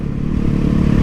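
An Indian Scout Bobber cruiser motorcycle with a 1133cc V-twin engine runs at a close, loud, steady idle, a low throbbing rumble with no voices.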